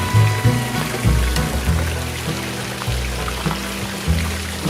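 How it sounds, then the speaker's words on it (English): Garden waterfall splashing steadily, a close, continuous pouring and trickling of water with no talk over it. "Waterfalls here."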